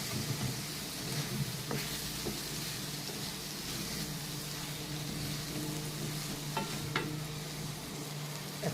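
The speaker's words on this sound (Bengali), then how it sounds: "এখন কিন্তু আমি ভেন্ডিটা ঢেলে দেবো, যে ভেন্ডিটা আমি ভেজে রেখেছিলাম সেটা দিয়ে দেবো।" Previously fried okra is tipped into a hot pan with salt, producing a continuous low sizzle with scattered stirring scrapes and clicks, fairly quiet and close.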